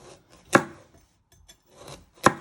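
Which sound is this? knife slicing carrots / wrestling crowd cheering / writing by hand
knife slicing carrots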